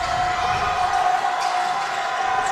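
Loud, steady roar of a large basketball crowd in a gym during a high school tournament game, sustained throughout with a faint whistle-like tone and possible voices mixed in.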